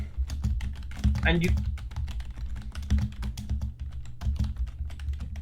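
Rapid, steady clicking of keys on a computer keyboard continues throughout, close and clear, while a person speaks briefly over it.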